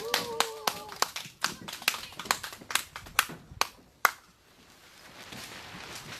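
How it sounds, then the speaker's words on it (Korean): An audience at the Seongju candlelight gathering claps to welcome a singer, a series of sharp, fairly sparse claps that fade out after about four seconds, with a brief voice at the start. "큰 박수로 맞이해주시면 고맙겠습니다"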